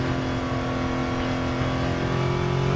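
Toyota Crown Athlete VIP car engine in a racing video game, a steady droning engine note held throughout at constant loudness with no talk.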